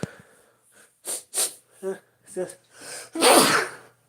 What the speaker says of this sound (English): Sorry, I sneezed.